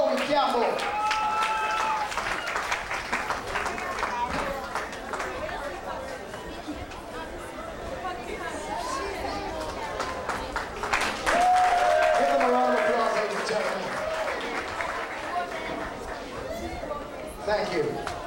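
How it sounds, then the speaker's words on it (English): An audience at a Mini Ms Portmore 2011 pageant applauds in sustained clapping and crowd chatter that lasts throughout, with voices speaking over the applause at times. "Give her a round of applause, Chloe Campbell."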